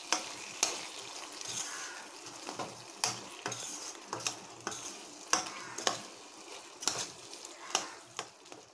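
Prawn masala with ghee is stirred in a pan, with repeated sharp scrapes and clinks of a spoon against metal over a soft, low sizzle.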